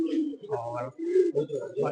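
A white-eyed pigeon in a loft gives several soft, throaty coos in quick succession, close by, with a faint voice nearby.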